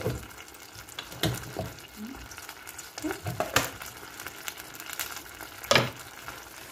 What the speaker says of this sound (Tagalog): Halo natin yung ating pitsay na dito.